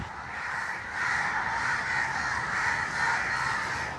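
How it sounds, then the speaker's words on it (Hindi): Many crows cawing together in a dense, steady chorus overhead, loud and continuous with no pauses. "कितने कौवे हैं देखना ऊपर।"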